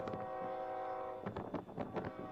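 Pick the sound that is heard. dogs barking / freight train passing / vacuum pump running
freight train passing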